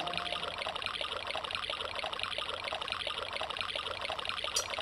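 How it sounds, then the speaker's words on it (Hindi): Water from a waterfall gurgles and trickles in a steady, unbroken flow, moderately loud and even throughout, with no other sounds. "ये तो पानी की खलखलाहट की आवाज सुनाई दे रही है"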